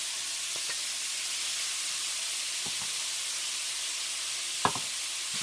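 Pork, carrot, garlic, ginger and spring onions stir-fry over high heat, giving a loud, constant hiss and sizzle with a few brief knocks of the pan or utensil being tossed, close up with no voices.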